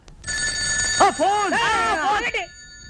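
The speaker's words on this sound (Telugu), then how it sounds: "ఆ ఫోన్ నాది వచ్చే ఫోన్ నాకు వస్తుంది" A telephone bell rings steadily for about two seconds in a film comedy scene while a voice talks over it.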